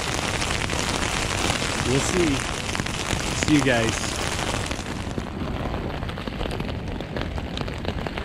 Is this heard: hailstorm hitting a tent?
yes